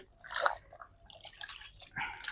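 A cloth item dipped in water and wrung out, with soft wet squishing and dripping in short bursts, fairly quiet and close, with no talk.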